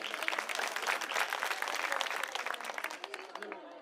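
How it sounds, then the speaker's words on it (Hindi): A crowd at a political rally applauds party workers, a burst of loud clapping that thins and fades toward the end, with a voice faintly mixed in. "सबसे पहले हमारे कार्यकर्ताओं के लिए एक बार जोरदार तालियां"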